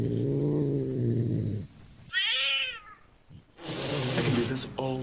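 A person imitates a cat's meow with a drawn-out, rising and falling vocal call, preceded by someone talking and followed by more talk, all close and clear.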